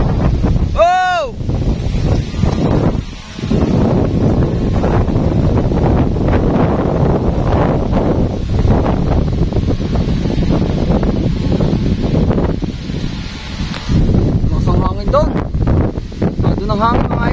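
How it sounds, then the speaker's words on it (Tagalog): Strong wind roars and buffets against the microphone in heavy rumbling gusts during a kite test flight, with a person's voice heard briefly through it. "Malakas ang hangin sa baba!"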